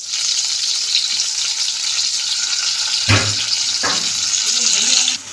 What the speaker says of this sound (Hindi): तो आइए मैं सबसे पहले पनीर को फ्राई कर लेती हूँ।